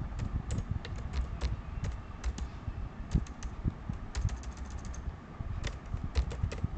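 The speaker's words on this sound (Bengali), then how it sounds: "গার্জিয়ানস নেম টাইপ হয়ে গেল কে এম দাস" Steady typing on a computer keyboard while entering data into a Microsoft Excel sheet, close crisp key clicks in quick irregular bursts with brief pauses, under a low background hum.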